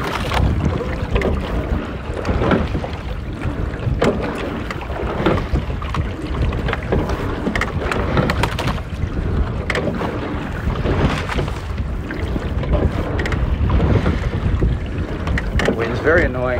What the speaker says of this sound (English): That wind's a bit annoying.